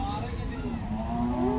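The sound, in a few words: cow mooing at cattle market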